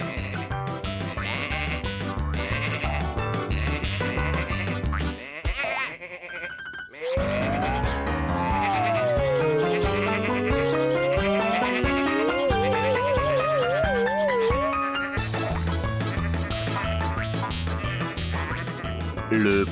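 Cartoon sheep from Tractor Tom bleat amid a bouncy children's music score, with a stretch of playful sliding, wobbling animated tones in the middle before the tune returns.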